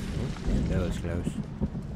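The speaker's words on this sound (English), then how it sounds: "lightning and thunder and that kind of stuff." Thunder rolling in the LEGO Fortnite video game, a broad low rumble with a rainy hiss, while someone talks over it.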